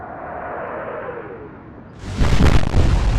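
WWII warship guns fire in the Atlantic Fleet naval combat game: a rising shell whistle and hiss gives way to a loud, rumbling cannon boom that rolls on to the end.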